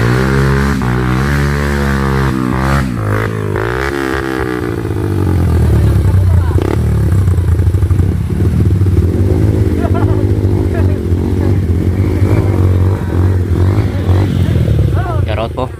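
A motorcycle engine revs loudly up close on a mountain road, throaty repeated throttle blips rising into a sustained roar, with someone talking over it.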